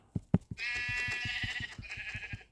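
In Minecraft, two short knocks, then a sheep bleats in a long wavering cry, with a steady thumping rhythm continuing underneath.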